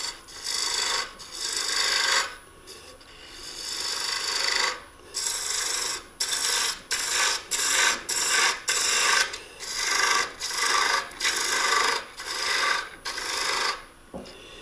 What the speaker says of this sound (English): I start turning the top, but I don't turn all of it